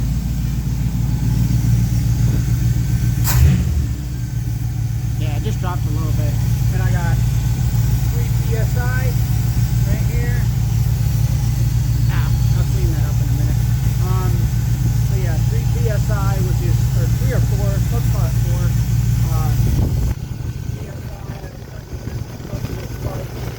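A 1985 Chevrolet K20 truck's engine idles with a steady, low throb throughout, while someone talks over it, before the sound drops slightly near the end.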